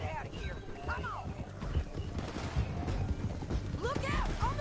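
Horse galloping in the Red Dead Redemption 2 video game, rapid rhythmic hoofbeats with tack rattling, mixed with faint neighs while voices talk over it.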